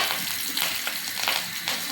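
Chillies dropped into hot oil for a red amaranth greens stir-fry, giving a loud, continuous sizzle with crackling bursts and a few stirring scrapes, close up and without talk.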